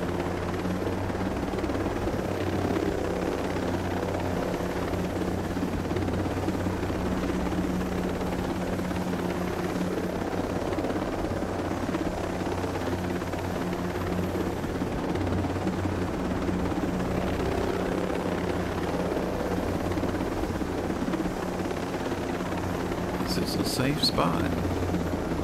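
A helicopter in the video game Ghost Recon Breakpoint comes in to land, its rotor thrumming as a steady, continuous drone from start to finish.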